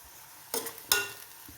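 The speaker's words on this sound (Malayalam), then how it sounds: "ഇനി ഒന്ന് എണ്ണ തെളിഞ്ഞ് കരിവേപ്പില ക്രിസ്പി ആകുന്നോടം വരെ ഇത് ഇളക്കി മൂപ്പിക്കണം" Curry leaves and spices stir-fried in hot oil in a pan for Kerala beef pickle, with two sharp bursts of scraping and sizzling from the stirring over a quiet background.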